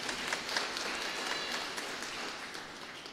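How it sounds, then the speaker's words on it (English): A congregation at the Infant Jesus Shrine annual feast Mass gives a round of applause, a soft, steady patter of many hands clapping at a distance for about three seconds. "Let's give him a big round of applause."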